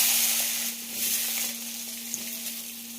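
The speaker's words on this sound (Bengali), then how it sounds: "এবার কেটে রাখা আলুগুলো দিয়ে দেবো" Cut potatoes fry in hot mustard oil, a close, continuous crackling sizzle with a steady low hum underneath and one small tap near the end.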